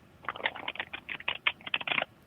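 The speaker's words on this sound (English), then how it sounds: "let me know when I should stop shuffling" A tarot card deck being shuffled by hand, a quick run of crisp, papery riffling flutters close up, steady for about two seconds and then stopping.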